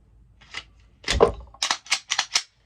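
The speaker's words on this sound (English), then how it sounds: "Let's put the Glock on the slides that I was just talking about." The slide goes back onto a Glock pistol with a series of crisp close mechanical clicks and snaps, a louder cluster in the middle, then four evenly spaced sharp clacks.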